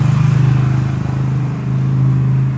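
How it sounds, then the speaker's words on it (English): Cars driving past on a Philippine street, a steady low engine rumble carrying through an open-air setting, one vehicle pulsing closer then easing off, with no talk. "a few cars going by."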